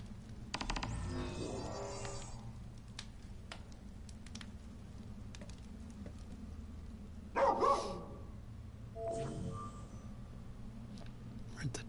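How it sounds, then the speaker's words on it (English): A dog barks in the video game Final Fantasy XV: a few short barks over a low droning game soundtrack, with a louder burst near the end and no voices. "Where'd the dog come from?"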